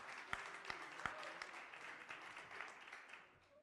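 Applause from a small audience at a venture capital panel event, a thin, fairly faint scatter of claps with a few sharper individual hand strikes near the start, tapering off toward the end.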